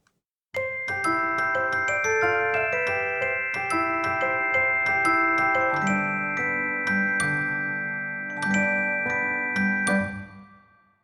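A celeste plays a bright, bell-like melody with ringing notes over a soft lower accompaniment, steady and clear without any voices.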